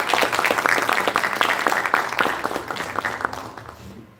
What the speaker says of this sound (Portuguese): Uma salva de palmas para a Eliane.